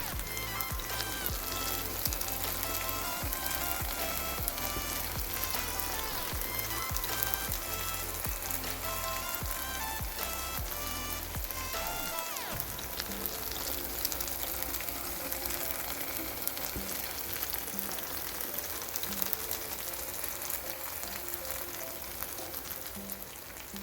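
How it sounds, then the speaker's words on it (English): Ripe plantains sizzle and crackle in hot oil in a pan, a steady frying hiss with background music playing throughout. "Here I have some ripe plantains frying"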